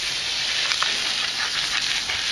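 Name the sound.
wild Alaskan salmon sizzling on a Himalayan salt block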